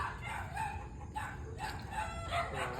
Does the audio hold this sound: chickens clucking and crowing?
yes